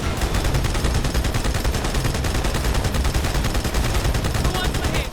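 Heavy machine gun firing in Halo: The Master Chief Collection, a rapid, unbroken stream of loud close shots with a steady pulsing rhythm that carries without pause for the whole stretch.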